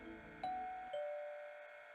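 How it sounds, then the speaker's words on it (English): Doorbell chime from the video game Robotics;Notes Elite, an intercom button pressed outside: two clear tones, one after the other, each ringing out and decaying over a soft background. "I do not like the sound of that ring bell there"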